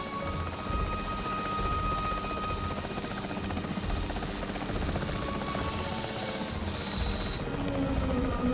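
The capture team helicopter in Jurassic World Evolution 3 drones continuously with a steady, fairly distant rotor thrum and whine, with a faint tonal rise partway through and no talk.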